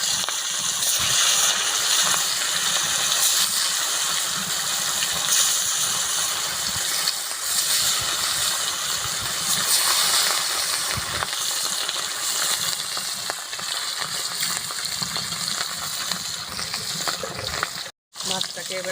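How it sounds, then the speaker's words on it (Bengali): Fish pieces fry in hot oil in a home kitchen, giving a continuous crackling sizzle with scattered spits and pops. The sound stays fairly even for the whole stretch, with a brief break near the end. "তেলটা গরম হয়ে গেছে, আমি এবার মাছের পিসগুলো দিয়ে দেব।"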